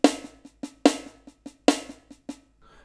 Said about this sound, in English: just a little paradiddle exercise